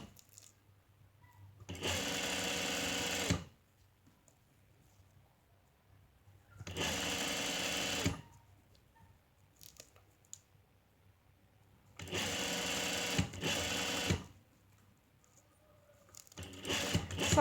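Sewing machine stitching zip tape onto onesie fabric with a zip foot, running in short bursts of steady motor whir and rapid needle clatter, separated by pauses of near quiet.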